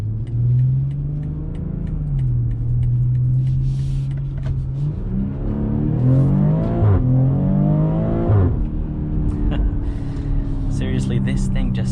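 A 2021 BMW X3 M40 engine revs and drops in pitch through early upshifts while driving, loud and close, with a voice talking over the rising and falling engine note.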